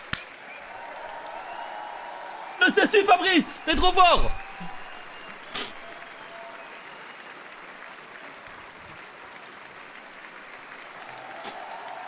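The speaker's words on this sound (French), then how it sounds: "Faites un tonnerre d'applaudissements pour monsieur Fabrice" A live stand-up comedy audience applauds comedian Fabrice Eboué in a soft, continuous wash, while a voice speaks briefly over it partway through.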